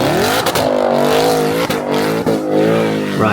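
Supercharged Jaguar XFR 5.0 V8 engine revving hard and loud nearby, with repeated rising and falling pitch sweeps and sharp shift-like breaks between pulls, and no talking.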